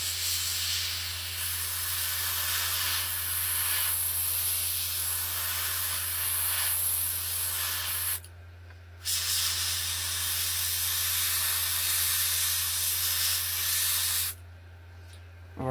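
Spray painting the base of a Jaws resin model kit: a steady, close airbrush-style hiss runs continuously, cutting out briefly twice before resuming, with no talking.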